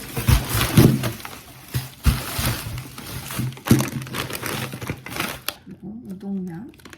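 A frozen food package is torn and handled up close, with sharp crinkling plastic rips and rustles coming in irregular bursts, and a voice speaking over part of it.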